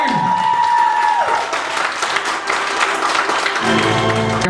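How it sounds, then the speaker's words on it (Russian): Wedding guests give the newlyweds loud, sustained applause as festive music plays underneath, the clapping dense and continuous throughout. "под бурные аплодисменты встречаем нашу семью!"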